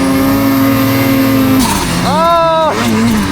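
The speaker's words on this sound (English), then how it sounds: "David's letting me rip his 2024 Freeride 850 Turbo." A 2024 Freeride 850 Turbo snowmobile engine drones steadily up close, then drops, briefly rises in pitch, and settles back. The sound is loud and continuous.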